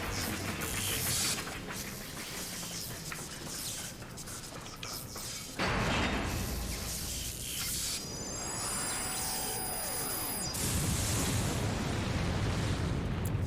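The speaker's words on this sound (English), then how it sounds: "Cool guys don't look at explosions." Loud rumbling blasts and bursts from a Final Fantasy 14 battle, with a sharp new explosion partway through, sustained heavy roar, and rising whistling tones layered over the din.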